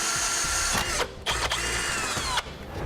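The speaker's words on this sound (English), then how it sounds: "I can come back with a smaller bit and make a pilot hole." Power drill boring a pilot hole in a car frame during a trailer hitch installation, a close, loud whine in bursts with short pauses and a change in pitch between runs.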